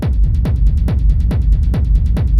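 A loud, driving industrial techno kick pattern, a classic four-on-the-floor beat reworked, thumps in a steady rhythm with booming low hits and crisp ticking hats, distorted and industrial in texture.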